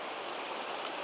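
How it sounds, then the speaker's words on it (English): A Pyramid Pro production gold pan held just under stream water gives a steady, close, broadband rush of flowing water with no pauses. "hold the Pyramid Pro Pan just under the water, like this"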